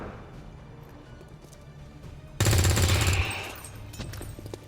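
A weapon fires in the tactical video game XCOM 2 with a sudden loud burst of gunfire, a heavy crashing blast that fades out over about a second, while a quiet ambient background continues before and after it.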